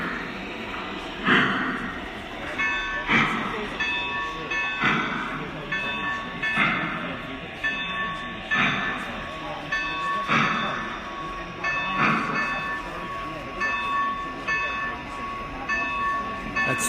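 A Lionel Pennsylvania K-4 model steam locomotive with Legacy sound system chuffs in a steady rhythm of puffs, with faint bell-like tones and talk in the background.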